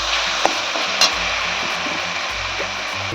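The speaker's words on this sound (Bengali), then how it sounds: "টমেটোটা ভালো করে আমি কষিয়ে নেব।" Tomatoes and spices are sautéed in a pan on the stove, giving a steady close sizzle with a few light scrapes of stirring.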